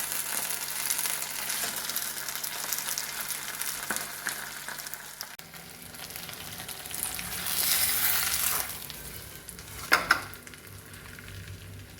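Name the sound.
pearl spot (karimeen) fish frying in oil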